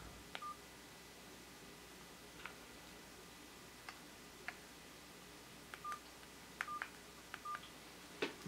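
Keypad buttons on a Fly DS 115 mobile phone pressed one after another, each press a short bright beep or click, spaced irregularly over a quiet background hiss.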